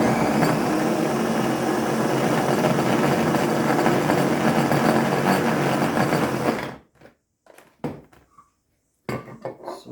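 Blender working through a thick raw vegan peppermint slice mixture, a loud continuous motor whir for about seven seconds before cutting out, followed by scattered knocks and scrapes.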